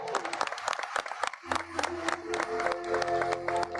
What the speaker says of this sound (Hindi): तालियां आपकी थोड़ी कम थी, जोरदार बजनी चाहिए।